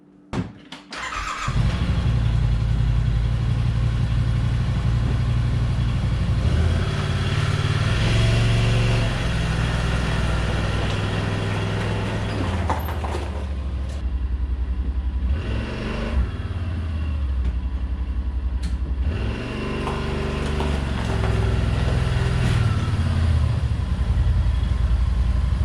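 A 2019 Yamaha Wolverine X4 side-by-side idles steadily to warm up, its engine a loud, continuous low rumble with slight shifts in pitch throughout.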